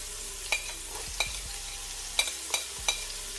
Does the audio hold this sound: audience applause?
no